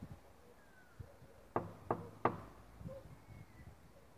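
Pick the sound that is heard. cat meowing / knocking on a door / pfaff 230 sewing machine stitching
knocking on a door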